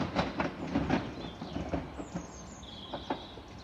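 A passenger train rolls through the station at Tonbridge, its wheels giving a steady clickety-clack over the rail joints with brief squeals of brakes or flanges, heard at moderate distance with no voices.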